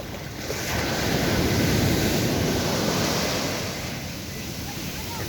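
Loud ocean surf swells up, holds as a dense roar, then eases back, with wind rushing across the microphone throughout.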